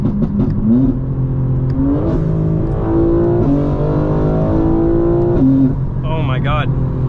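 A stage 2 tuned 2025 BMW M4 Competition xDrive, around 800 horsepower, pulls at full boost from inside the cabin, its engine note climbing through the gears with shifts, while people exclaim loudly over it.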